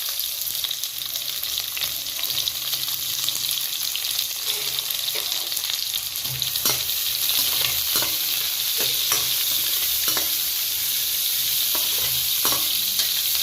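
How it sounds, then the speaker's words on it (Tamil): About 200 grams of chopped small onions sauté in hot oil for a fish curry, giving a steady close sizzle with occasional stirring scrapes and clicks, and no talk. "நல்லா வதக்கலாம்."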